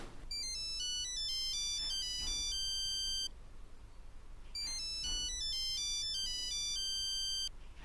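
A mobile phone ringtone plays loudly as a bright repeating electronic melody, sounding in two bursts with a short pause between them, with no talking over it.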